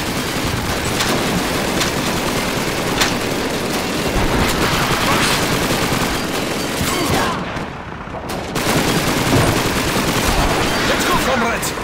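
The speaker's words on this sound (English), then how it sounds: "Grab a submachine gun and make sure you reload it first." Continuous submachine gun fire in Call of Duty 2's Soviet Red Army training mission, dense overlapping bursts filling the whole stretch, with a brief lull near the middle before the shooting resumes.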